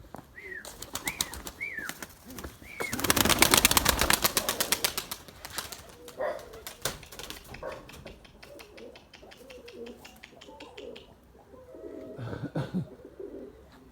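Pigeons in flight during rain, with soft coos and bursts of flapping wings, a loud dense flurry of wingbeats midway, then scattered calls and lighter rustling.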